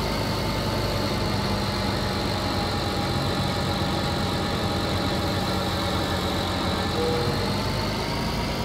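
A Swaraj 855 tractor engine in Farming Simulator 19 drones steadily while pulling a plow, an even mid-pitched hum with faint vibration, constant and moderately loud with no speech.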